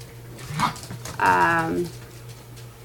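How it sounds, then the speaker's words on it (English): Dogs playing in the background, with whimpers and yips from a short distance, surfacing between bits of nearby talk. "I've got some dogs in the background playing"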